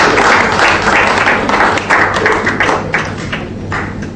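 A dense, sustained round of audience applause for a group of children fills the room, many hands clapping steadily and loudly with no speech over it.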